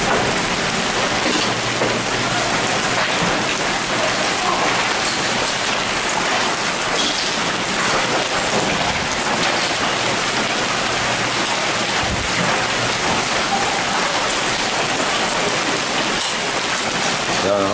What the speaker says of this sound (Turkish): Aniden başladı dolu yağmaya.